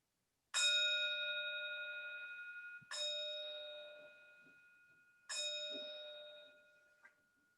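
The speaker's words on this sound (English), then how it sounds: "With the fading of the sound of the bell" A meditation bell rings three times during a Buddhist service, each clear resonant strike sustaining a long shimmering tone that slowly fades before the next, evenly spaced in a quiet room.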